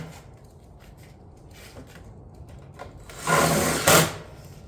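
Impact driver sending a stitch screw into a metal ridge cap over a ridge vent on a shingle roof: light handling sounds, then a short loud burst of whirring and rattling near the end.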